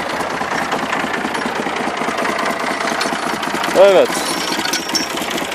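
A Massey Ferguson 135 tractor's diesel engine runs close by with a steady, rough knocking idle, while someone speaks briefly over it.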